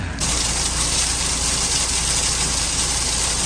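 Hailstones drumming on a car driving on the Isle of Skye, a dense, continuous loud rattle over the low rumble of the engine, steady from start to finish, no talking.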